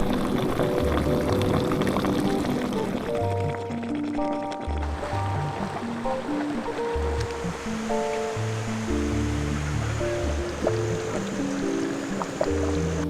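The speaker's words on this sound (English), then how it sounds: "All this water and all this mud underneath is just bubbling, and there's just this hot steam rising through." Water and mud bubble and churn at a volcanic hot spring with steam rising, a continuous rushing, gurgling wash that stays close and fairly loud throughout.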